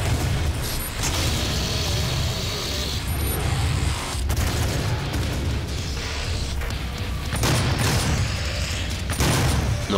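A fully upgraded rapid-fire weapon in DOOM unleashes loud, sustained bursts of gunfire, dense and continuous, with brief breaks between volleys amid mechanical clatter.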